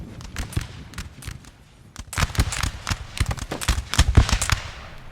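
Musket volleys crackle in rapid, overlapping bursts as line infantry fire in a Napoleonic battle in the Napoleon: Total War video game, sparse at first, then dense and loud, sounding moderately distant.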